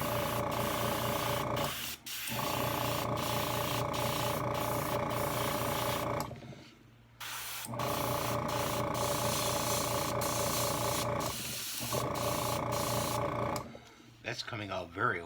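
Paint hisses steadily from a sprayer onto a Moebius Herman Munster model kit, with a faint mechanical ticking running through it. The spraying stops briefly twice and a voice talks at times.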